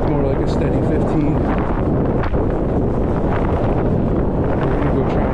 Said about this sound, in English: West wind, they said 10.